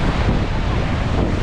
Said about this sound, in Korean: 파도 치는 거 봐.